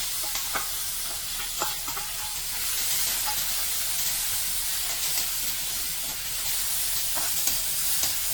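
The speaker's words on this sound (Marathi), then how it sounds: "आता बारीक चिरलेला कांदा घालून परतून घेऊया" Finely chopped onion sautéing in a pan with curry leaves, a constant close hiss and sizzle with faint scraping of a spatula as it is stirred, steady and unbroken with no speech.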